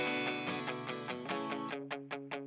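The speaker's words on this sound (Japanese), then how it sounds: "こういう歪んだミュートしたギターの音が入ってますね。" A distorted, palm-muted electric guitar from a band recording of a song plays a dense sustained passage, then shifts to short, tight rhythmic chugs, loud and alone.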